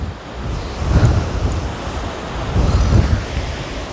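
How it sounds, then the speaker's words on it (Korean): Strong wind buffets the microphone on the Geurimsan mountain summit on Bigeumdo island, a steady roar with two louder gusts surging in the low range, no voices heard. "근데 바람이 너무 불어요."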